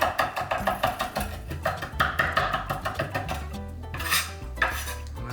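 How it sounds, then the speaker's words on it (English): Smoked pork shoulder carnitas are roughly chopped with a knife on a board, giving a steady run of close, sharp knocks in quick rhythm, with a brief pause and a few heavier chops near the end. "you can just do a couple of rough chops"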